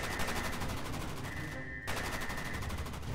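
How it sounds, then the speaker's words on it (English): Rapid, continuous automatic gunfire in a Minecraft roleplay firefight, loud and close, with a brief dropout partway through before the steady rattle resumes, set against a background tone. "We're taking heavy fire at the prison cells."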